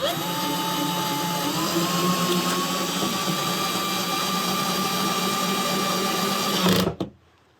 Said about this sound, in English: we place our fastener in and we drill it into place